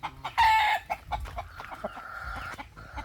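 A champion gamefowl rooster clucks in a few close, loud bursts, then gives softer scattered calls and rustling in the quiet that follows.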